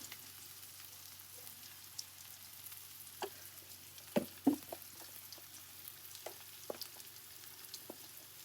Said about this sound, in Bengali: প্রথমে কড়াইতে তেল দিয়ে দিছি পেঁয়াজ কাঁচা মরিচ দিয়ে দিলাম একটু ভাজা হলেই